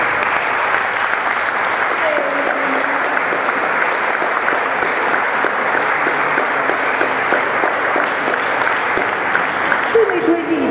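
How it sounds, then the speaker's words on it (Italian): Sustained applause from an audience at a public talk on fascism, a dense, steady wash of clapping filling the room throughout, with no pauses. "questo applauso va anche a lui"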